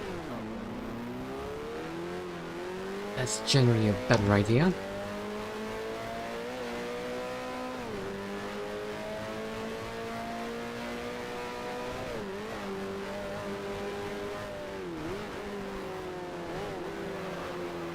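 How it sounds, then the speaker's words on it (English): Racing car engine in the F1 Challenge video game revving and shifting through gears during a 1974-season race, a steady sustained drone with a brief loud rev spike early on, while a voice speaks briefly. "You might want to wait until the revs go down before downshifting."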